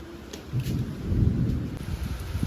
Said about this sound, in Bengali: অবশেষে একটু স্বস্তির বৃষ্টি পড়ছে